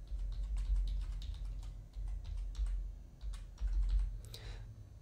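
Password being typed on a computer keyboard during a WordPress install, with soft, quick, irregular key taps over a low hum of background noise. The taps are faint and nobody speaks.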